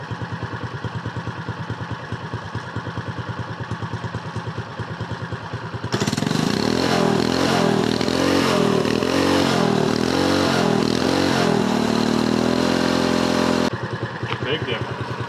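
A mini bike's small engine idles with a steady low putter, then surges into a louder, rougher revving drone for several seconds before settling back to idle, with people talking nearby.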